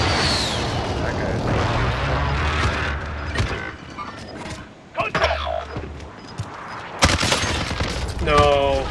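Video game combat with bursts of automatic gunfire and distant explosive shots in a battle royale match, dense and continuous, layered under excited player talk and in-game voice alerts.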